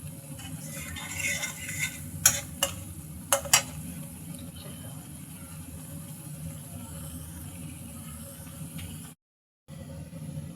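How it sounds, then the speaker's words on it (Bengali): Drumstick pods (sajne data) dropped into a pan of cooking koi fish, a low steady sizzle with a few sharp clicks and clatters of the pieces and utensil near the start, then a brief silent gap. "এবার দিয়ে দেব সজনে ডাঁটা।"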